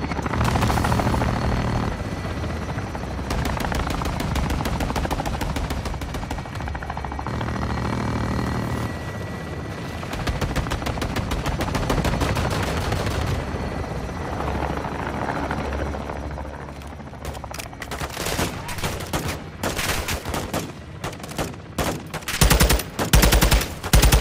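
Air support strafing in Call of Duty Modern Warfare 2: a helicopter drones loudly throughout while long bursts of rapid machine-gun fire rattle in several stretches, ending in sharp, scattered shots, with no talk.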